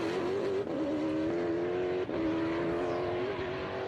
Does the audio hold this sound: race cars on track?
yes